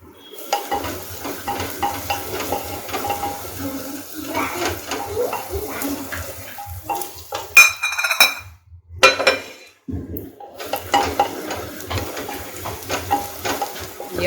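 Onions fry and get stirred in a pan, with a loose sizzle, scraping and occasional clinks of a utensil against metal, interrupted briefly by a short quiet gap and a few louder knocks.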